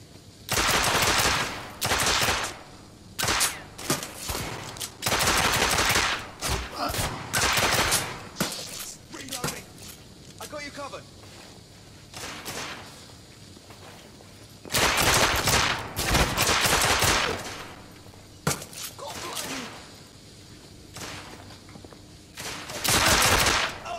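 Gunfire in The Order: 1886, heavy bursts of rapid automatic shots and fusillades in loud clusters separated by quieter gaps, close and forceful.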